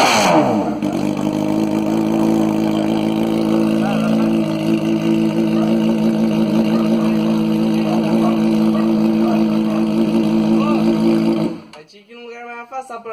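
A Honda CBR 600F motorcycle with a one-and-a-half-inch straight-pipe exhaust rumbles loudly close by, its engine note holding steady and wavering before cutting away abruptly near the end.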